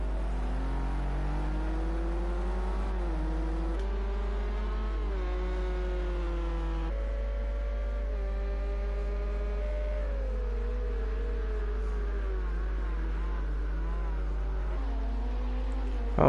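Racing car engines in Project Cars at Circuit of the Americas, with a BMW among the cars: several engines whine and rise in pitch through gear changes, droning continuously and fairly loud over a steady low hum.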